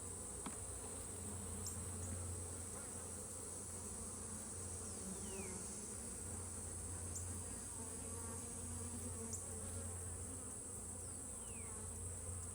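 Honey bees hum around a hive with a queen, a faint, steady low drone broken by occasional individual bees zipping past the microphone, and no talking.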